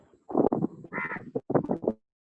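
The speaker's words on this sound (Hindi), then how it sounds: "कौवे की आवाज आ रही है।" A crow caws several times in quick succession, a short burst of harsh calls heard fairly near and alone, with silence just before and after.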